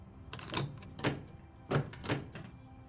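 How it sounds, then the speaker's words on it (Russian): A door shut and locked indoors at a hospital, several muffled thunks and latch clicks spaced about half a second apart, fairly quiet, with no talking. "Зачем она закрыла дверь?"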